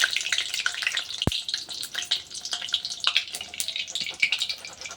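Malpua, sweet pancakes, sizzle and crackle in hot oil, a bright irregular spitting hiss with a single sharp clink near the start, close and moderately loud.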